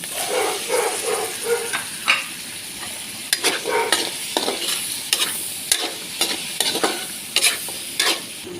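Vegetables sizzle steadily in a hot pan while a utensil stirs them, giving close scraping clatters and knocks over a continuous frying hiss, with no talk.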